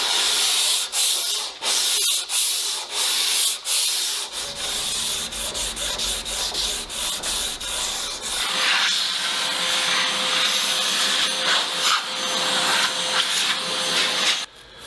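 Sanding of a guitar neck's fretboard radius with progressively finer paper up to 1000 grit, a steady close scratchy rubbing that pulses in short strokes at first, then settles into continuous sanding with a faint tonal whine.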